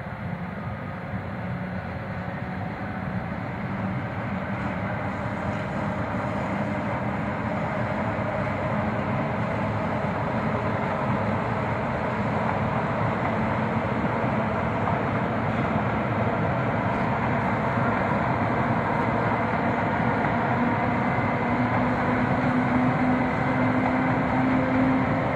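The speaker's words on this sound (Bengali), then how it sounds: "ট্রেন যাচ্ছে।" A passing train gives a steady, loud, continuous rumble and roar that holds for the whole stretch without a break.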